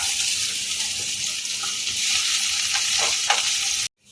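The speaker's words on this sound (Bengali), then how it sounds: "পেঁয়াজটা হালকা ভেজে নেওয়া হয়েছে" Onion and green chili frying on low heat for tadka pasta, giving a steady loud sizzle with stirring scrapes, close up, before cutting off abruptly near the end.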